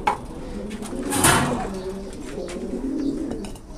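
Breeding pigeons coo softly in a loft, a low murmuring call repeating under a steady hum, with a brief flutter or rustle partway through.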